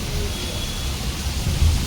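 Heavy monsoon rain pours in a steady, broadband hiss with low rumbling underneath, continuous and fairly loud throughout.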